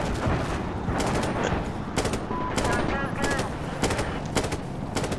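Gunfire in the Insurgency Sandstorm video game, with dense, continuous machine-gun bursts and scattered rifle shots that crackle loudly at close range throughout.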